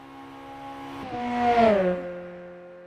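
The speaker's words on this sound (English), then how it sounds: "Let y'all listen to the car there as we come in hard on the brakes just after the 100-meter board." Race car engine in the racing sim rFactor 2, a steady loud drone that rises and then drops in pitch as the car brakes hard, alone with no talk.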